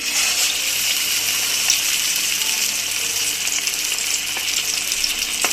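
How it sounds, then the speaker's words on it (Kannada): Hariyali chicken kebabs frying in hot oil, a loud, steady sizzle with a dense bright crackle that holds without pause, close up, with no voices. "ಎಣ್ಣೆ ಬಿಸಿಯಾಗಿದೆ ಈಗ ಹಾಕ್ತಾ ಇದ್ದೀನಿ"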